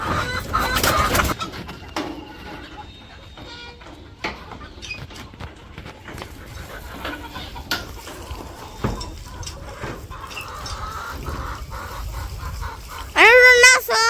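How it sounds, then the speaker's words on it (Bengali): A hen clucks after laying an egg in a village yard, with irregular clucks and fowl calls close by, mixed with loud speech at the start and a sharp burst of squawking near the end. "মুরগিতে ডিম পারছে"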